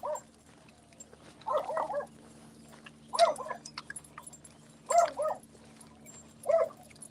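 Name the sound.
dog barking and whimpering on a walk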